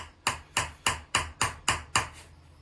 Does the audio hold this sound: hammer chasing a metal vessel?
yes